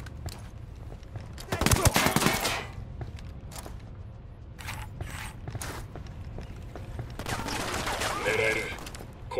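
Gunfire in the video game Ghost Recon Wildlands: a dense burst of automatic shots around two seconds in, then scattered single and clustered shots with mechanical clatter, while voices speak over the action.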